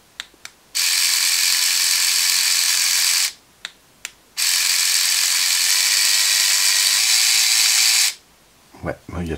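A small handheld power tool with a bit whines steadily at high pitch, cutting out briefly and restarting at a couple of different speeds, loud and close with no talking over it.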